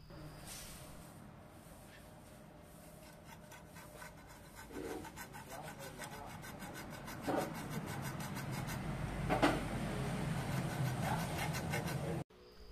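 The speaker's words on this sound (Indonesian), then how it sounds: "di sini saya gunakan gerinda dan juga gergaji besi" A hacksaw rasps through metal in steady back-and-forth strokes, gradually growing louder and harsher before stopping abruptly.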